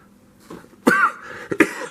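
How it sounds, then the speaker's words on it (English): A single sharp cough up close, with a short second burst after it, in an otherwise quiet setting. "excuse me, still fighting this cough,"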